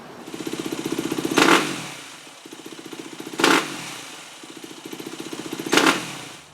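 A Yamaha WR250F dirt bike engine with a fuel-screw mixture problem idles with a steady, rapid thumping, then bogs out three times in short, loud bursts spaced about two seconds apart.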